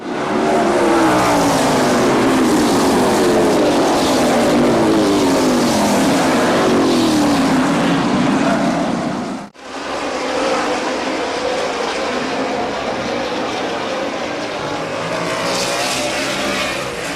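Race cars roar around the Midvale Speedway track, their engines sweeping loudly past in overlapping waves of rising and falling pitch, with a brief dip midway before the pack noise resumes.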